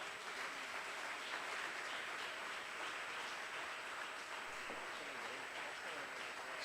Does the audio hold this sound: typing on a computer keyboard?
no